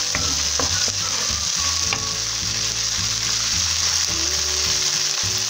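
A seasoning base for a cauliflower sauté fries loudly in a pan, a dense continuous sizzle with scattered stirring knocks and a low background hum, with no talking.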